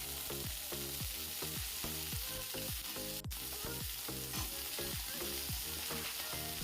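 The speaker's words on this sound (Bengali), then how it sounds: "সবজিটিকে ভালো করে ভেজে নিতে হবে।" Potato and cauliflower pieces fry in a pan for dalia khichuri, giving a loud, continuous sizzle, while rhythmic music with a steady beat plays underneath and no one speaks.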